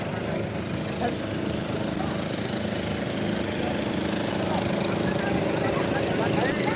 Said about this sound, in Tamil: இங்கே ஒரு போட் சவுண்டோட வருது பாருங்க